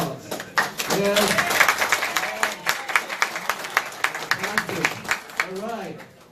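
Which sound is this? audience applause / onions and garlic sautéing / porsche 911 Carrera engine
audience applause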